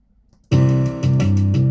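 Synthesized bass line on a single sustained note, entering suddenly after near silence with a quick grace note sliding up into it, then a couple of re-articulated pitch changes, loud and close with no talking.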